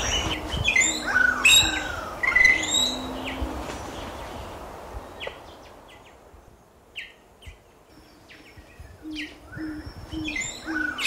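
Tongan whistler calling outdoors among other birds, bright rising and falling whistled phrases early on, then scattered chirps and softer cooing notes over a noisy forest background.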